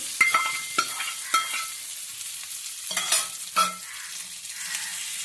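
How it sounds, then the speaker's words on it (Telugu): Sizzling and crackling as hot oil hits food, with a few sharp scraping and stirring knocks, close by and without talk. "తాలింపు పచ్చట్లో వేసుకుందామండి"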